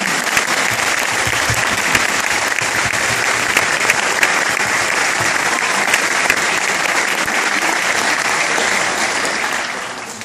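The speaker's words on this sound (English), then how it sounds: "Another round of applause for both of our bands" Loud, sustained applause fills an auditorium after an upper elementary school advanced band concert, a dense steady clapping that carries on for about ten seconds and fades slightly at the end.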